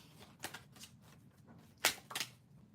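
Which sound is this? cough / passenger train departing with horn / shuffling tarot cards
shuffling tarot cards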